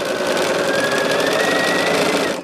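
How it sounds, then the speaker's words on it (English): A sewing machine runs steadily, stitching fabric pieces together with a continuous fast mechanical whir, close and alone for a couple of seconds before stopping. "just grabbing two sets of 2s and just sewing them together"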